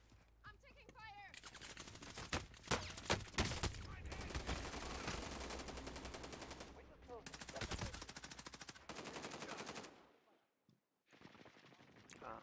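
Dense gunfire in the shooter game Call of Duty: sustained automatic bursts and rapid shots over several seconds, a brief pause, then more firing, with a voice talking at times.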